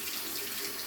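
Hot water runs steadily from a tap during handwashing, a dense unbroken hiss and splash close by with no voices over it.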